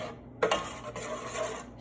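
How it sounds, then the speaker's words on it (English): A spoon or spatula rasps and scrapes around the sides of a pan while mixing a no-bake cookie mixture, close and moderately loud, with a sharper scrape near the start; no talking. "I'm going to keep mixing quickly. So I'm making sure that I scrape all of the edges really well"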